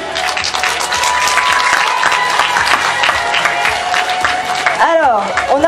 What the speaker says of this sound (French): Et on applaudit!